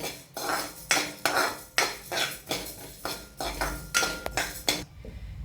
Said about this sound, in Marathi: हे धने जिरे आणि तीळ हे आता आपण भाजून घेऊया थोडेसे परतून घेऊया